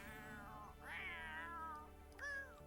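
A cat meows in a video game: three clear, fairly quiet mews, two longer drawn-out ones followed by a short rising chirp, heard alone.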